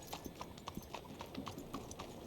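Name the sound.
horse hooves clip-clopping in Red Dead video game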